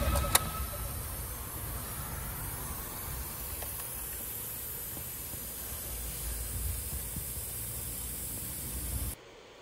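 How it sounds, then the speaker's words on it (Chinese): Air leaking from the brake vacuum booster of a 3.5-ton Mitsubishi Canter truck, a steady hiss over the idling engine, with a sharp click near the start and an abrupt stop at the end. "然后有一个漏气的声音"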